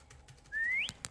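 A character in the game Lazaret whistles once, a single clear rising tone lasting about a third of a second, followed by two short clicks over quiet background.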